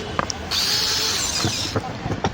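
A heavy-duty Hilti 20 kg power tool in a repair workshop runs in a single loud burst of about a second, with brief clicks and handling knocks around it.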